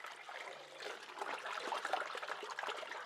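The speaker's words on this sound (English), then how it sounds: "You'd put it in the basin, and you just wash it like that." Underwear being washed by hand in a basin of water gives soft, continuous sloshing and trickling with small splashes, steady and fairly quiet throughout.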